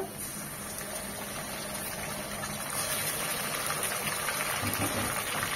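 Onion and onion paste with cardamom frying in a pan for chicken roast, a dense steady sizzling hiss that bubbles and roars evenly throughout, fairly close, with no talking.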